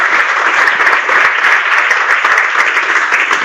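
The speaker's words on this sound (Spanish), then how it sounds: "Le damos nuevamente un aplauso." Webinar audience giving a professor a round of applause: dense, continuous clapping that holds steady and loud throughout, with no voices over it.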